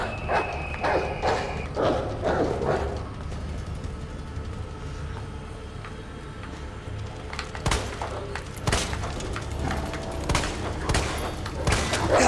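Gunfire in the zombie survival game Resident Evil 2, sharp repeated shots in irregular bursts over a dense, rumbling game soundscape, with no talking.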